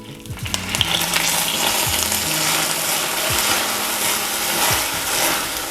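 Vinegar poured into hot caramel sets off a loud, steady hissing sizzle that holds for several seconds, with a few light knocks of a utensil against the pan.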